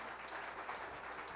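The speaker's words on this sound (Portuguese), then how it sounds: "Palmas para a Ludmila." An audience applauds at a tourism summit panel on natural parks, a brief, faint burst of clapping heard from a distance.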